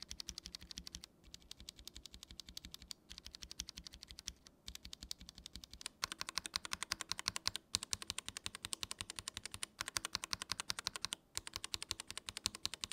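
Rapid, steady typing on a lubed custom mechanical keyboard with hand-picked parts, its close, dense key clicks and thocks continuing alone for several seconds with only brief pauses.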